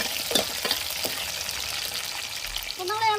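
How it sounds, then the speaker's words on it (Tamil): Onion, garlic and green chili frying in oil for onion kara kuzhambu: a close, even sizzle with a few brief stirring clatters early on and a short tonal sound near the end. "உங்களுக்கு எண்ணெயிலே வெங்காயம் வெள்ளைப்பூடு பச்சை மிளகா வதங்கி வரட்டும்"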